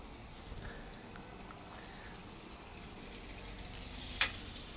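Tomahawk steak searing in a very hot pan in Argentina, a steady close sizzle that holds throughout and swells slightly near the end with a sharp hiss.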